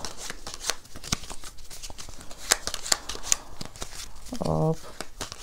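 Playing cards are handled during a magic trick, with crisp clicks and quick riffling snaps in an irregular rhythm close by, and a brief voice near the end.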